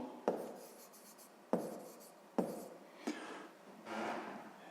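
Pen strokes on paper as a number is written by hand for a sixth-grade maths exercise, five distinct scratchy strokes spaced about a second apart, close and quiet with no talking.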